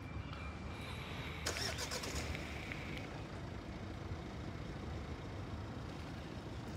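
A car passes outdoors, its broad engine and tyre rumble swelling to a peak over roughly a second, then easing back into steady background noise.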